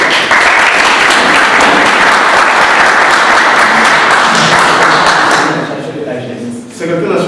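Loud, dense applause from an audience at a Congolese MLC party federation gathering in Germany, cheering a candidate for the Limete commune, sustained for several seconds before tapering off.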